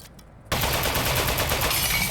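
Turret gunfire in a video game bursts in suddenly after a brief quiet, becoming a dense, loud, continuous rattle of rapid shots.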